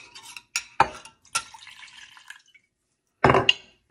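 Rice water from a jar kept by a sink splashes into a bowl in a few distinct bursts, sharp wet pours and drips separated by quiet gaps, close and fairly loud.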